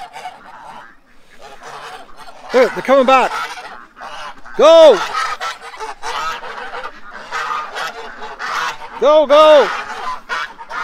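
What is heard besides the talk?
duck quacking and honking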